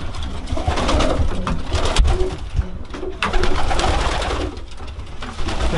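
Pigeons coo inside a pigeon loft, soft throaty rolling calls from several birds overlapping close by, with rustling and wing flutters in a busy, continuous mix and no speech.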